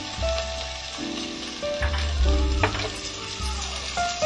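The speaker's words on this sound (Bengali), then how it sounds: "এবার একটু নেড়ে নেবো বন্ধুরা, বেশি ফ্রাই করব না।" Spring onion and cabbage crackle and sizzle in oil in a pan as they are stir-fried, with intermittent spatula scrapes and a low steady hum underneath.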